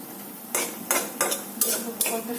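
Tender gourd leaves are stirred in a cooking pan, five distinct scraping strokes of a utensil against the metal sounding close over a soft steady sizzle.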